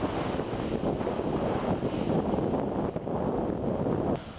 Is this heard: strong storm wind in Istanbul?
yes